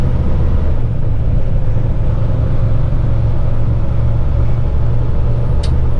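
A Kenworth heavy-haul truck pulls away along a service road, its engine drone a steady, loud low rumble that holds throughout with no talk over it.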